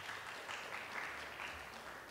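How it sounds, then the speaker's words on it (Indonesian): Steady, faint applause from a classroom or training group clapping for one team, continuous clapping with no talk over it. "Oke, tepuk tangan lagi untuk kelompok 1."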